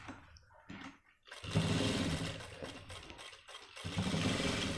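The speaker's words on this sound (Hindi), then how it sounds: "उसके बाद ये जो हमने निशान लगाया था यहाँ से सिलाई शुरू करनी है" Sewing machine stitching the pocket of a pair of men's trousers, a steady motor whir that starts quietly, swells after a brief pause and carries on near and continuous.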